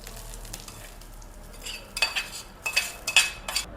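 Cloves fry in oil in a pan under a low, soft sizzle, then a spoon stirs and scrapes against the metal in several clinking bursts near the end, close by with no voices.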